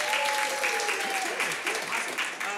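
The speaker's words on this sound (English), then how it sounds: "Clap your hands" An audience at a live improv comedy show claps hands in a steady, full round of applause, with voices faintly mixed in under the clapping.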